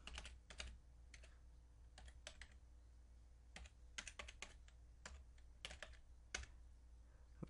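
Fast typing on a computer keyboard while entering a name and email into a sign-up form, with bursts of close, crisp key clicks separated by short pauses, no talking.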